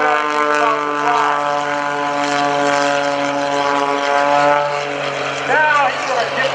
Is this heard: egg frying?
no